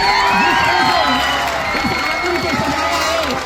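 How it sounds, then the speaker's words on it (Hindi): A school crowd cheers and claps loudly for a teacher of a Ballia English school, with excited shouts and children's voices mixed into the clapping; a voice speaks over it. "एक बार जोरदार तालियां बजाइए"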